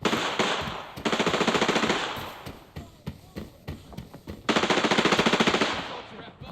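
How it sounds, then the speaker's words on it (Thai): Automatic gunfire in the Arena Breakout video game, with rapid bursts separated by scattered single shots and short pauses, loud and fairly close. "ส่วนเวลาจะวิ่งแนะนำให้วิ่งตอนที่มีเสียงปืนดังนะฮะ"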